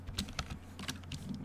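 Quiet typing on a computer keyboard while entering HTML code, a steady run of light key clicks with a few sharper taps, close and soft with no talk.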